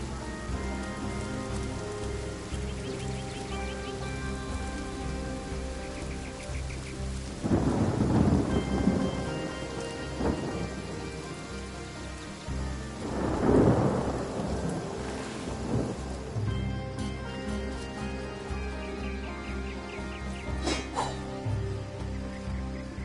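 Rain and a thunderstorm in the video game Divinity: Original Sin: steady rainfall on surfaces throughout, with two loud rolling thunderclaps rising out of the downpour and fading away.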